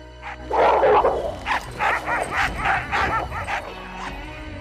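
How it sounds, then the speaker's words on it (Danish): Sled dogs bark and yip in rapid overlapping bursts while fighting, loud and close, with whines mixed in. "Sammenbragte hunde er lige med slagsmål."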